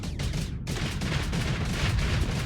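Rapid Vulcan cannon fire from a ship in the space combat game Starsector, a dense, continuous rattle of shots with a brief gap early on, loud and close throughout.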